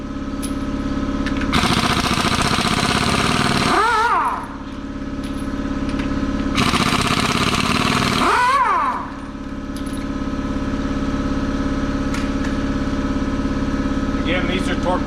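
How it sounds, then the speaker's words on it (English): A half-inch impact wrench removing wheel lug nuts on a 2001 Freightliner bus: two loud bursts of buzzing rattle, each about two seconds, over a steady idling engine drone. "It's just a 1/2 inch impact, but it works just fine because these are not torqued up yet."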